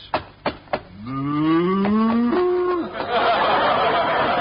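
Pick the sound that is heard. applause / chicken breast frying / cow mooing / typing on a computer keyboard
cow mooing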